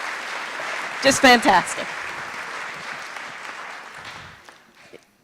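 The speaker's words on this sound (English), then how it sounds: "another round of applause" Audience applause for performers at a school Yom Orchim event, a broad clapping wash under a brief spoken voice, fading out over the last seconds.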